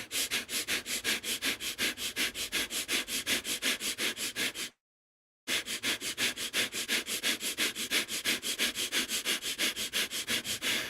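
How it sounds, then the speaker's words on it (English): Rapid, rhythmic sniffing repeats in quick steady pulses, briefly stopping for a moment of silence before resuming at the same pace. "Sniffing in and out."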